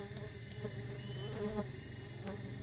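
Biroi bee colony buzzing during a hive transfer, a steady, even drone of many insects close by with a few louder passes and no talk.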